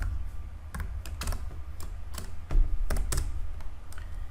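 Typing on a computer keyboard while writing a C program: about a dozen sharp, close key clicks in an uneven rhythm, with one heavier key press in the middle.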